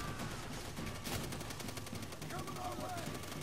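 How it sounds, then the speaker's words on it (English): Machine gun fire in the World War II shooter game World at War, a dense rattling burst of rapid shots running steadily throughout, loud and close with battle noise underneath. "Oh, that MG's ripping us up, mate."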